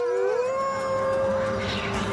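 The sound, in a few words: wolf howling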